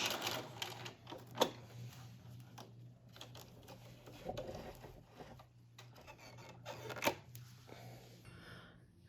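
A sewing machine running a double-needle topstitch around an elastic hem and back stitching at the join gives a faint, steady mechanical whir with a low hum and a few louder clacks.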